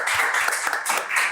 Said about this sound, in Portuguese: Uma salva de palmas mais uma vez por este homem maravilhoso